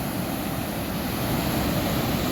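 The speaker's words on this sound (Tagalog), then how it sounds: "Grabe, nakataas ng mga alon." Steady roar of ocean surf on a beach in San Felipe, Zambales, with high waves, a constant loud wash of breaking waves with no pauses.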